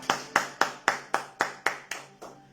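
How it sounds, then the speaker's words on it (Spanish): Church clapping during a Bible-study sermon: eight crisp, evenly spaced claps in a quick steady rhythm, clear and close, slightly softer at the end. "Denle un aplauso al Señor."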